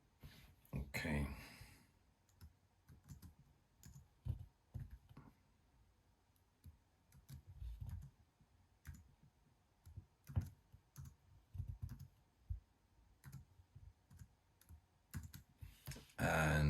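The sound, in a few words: typing a Wi-Fi password on a MacBook keyboard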